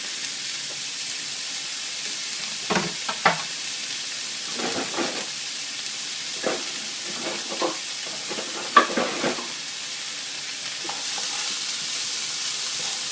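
Vegetables sautéing in a pan on medium heat give a soft, steady sizzle with intermittent stirring scrapes and clatters, fairly quiet and close, with no talking.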